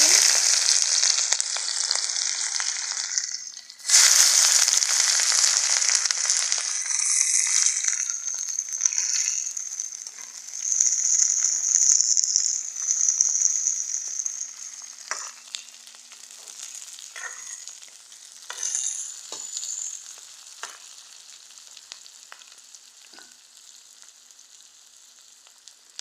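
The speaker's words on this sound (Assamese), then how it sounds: "অকমান মোহাৰি যোৱালৈকে এনেকৈ ভাজি থাকিব লাগিব পিঁয়াজখিনি।" Sliced onions fry in a pan with dried chillies and bay leaves, a loud steady sizzle that surges as they are stirred, then slowly settles into a softer, crackling hiss over about half a minute.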